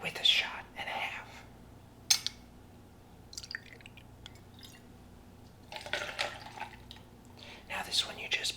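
Vodka is poured for a Sex on the Beach cocktail, soft, close splashing and trickling in short bursts with quiet gaps between them, under and between gentle whispering.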